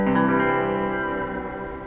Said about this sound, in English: I'm playing through a little Vox practice amp. I've got a little bit of reverb on it